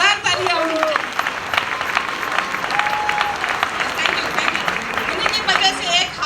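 A crowd at a corporate leaders' event gives loud, sustained applause for Vijay Sir, dense clapping with a murmur of voices mixed in and a voice speaking over it.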